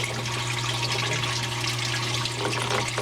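Water pours and gurgles steadily through the sump of a 75-gallon black aquarium tank and is pumped back up, a constant rushing wash with a low motor hum underneath.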